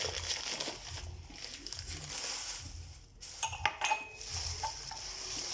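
Five new clear drinking glasses clink and rattle as they are handled, a few sharp glassy knocks standing out near the end over steady crinkling of a plastic bag, fairly close.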